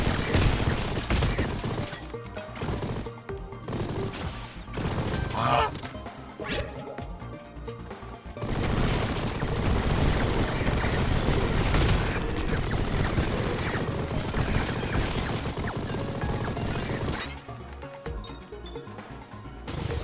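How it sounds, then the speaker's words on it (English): Machine gun fire in the video game Mighty Goose, dense rapid bursts of gunfire and clattering game effects filling twenty seconds with brief lulls, loud and continuous. "Machine gun. Machine gun."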